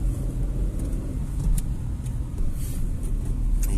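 A driving-school car's engine accelerates up a hill, a loud, close, low rumbling drone that holds steady for several seconds with no talk.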